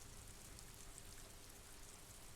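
Gentle, steady rain ambience from the game Disco Elysium hisses softly and evenly throughout, faint and continuous with no voices.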